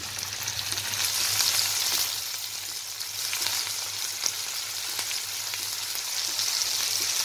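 Tomatoes and coriander stalks sizzle loudly and steadily in a pan with cooked red chilies for a restaurant-style momo chutney, a dense, continuous hiss with no voices.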